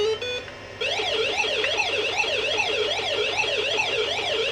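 Pac-Man's warbling siren tone plays on a Wyse 286 IBM-compatible PC, a synthesized wavering pitch that rises and falls in a steady repeating cycle after a few brief beeps, loud and alone.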